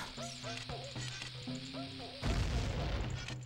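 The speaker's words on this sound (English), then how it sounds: "stupid explosions can't hurt me with my shield" Synthetic sound effects from The Legend of Zelda: Ocarina of Time's Fire Temple: a run of electronic tones and blips, then a loud booming explosion with a rumbling tail.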